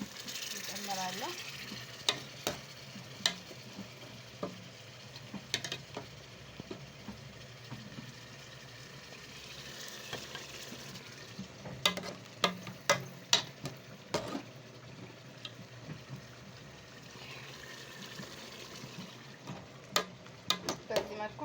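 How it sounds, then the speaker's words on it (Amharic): Meat sizzles in a pan with garlic, fried and stirred for an Ethiopian stew, a steady close frying hiss broken by repeated sharp scrapes and clicks of a stirring spoon against the pan. "አሁን ስጋውን አቅላለዋለሁ እንደዚህ አድርጌ"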